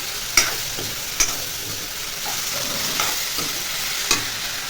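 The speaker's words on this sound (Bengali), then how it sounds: "এখন কষিয়ে নিচ্ছে একটু।" Snake beans and potato with cumin, turmeric, slit green chilli and salt sizzle steadily in a pan, with a few sharp scrapes of the spatula standing out over the constant frying hiss.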